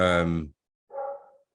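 A dog barks indoors, one loud close bark followed after a brief pause by a softer, higher yelp.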